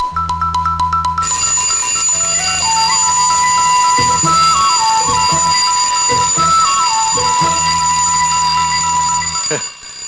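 An electronic alarm rings in repeated beeping bursts, loud and close, with a melodic ringtone pattern sounding between them.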